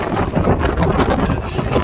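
Strong wind from Cyclone Gabrielle roars and buffets the microphone in a constant, rough rush with no letup.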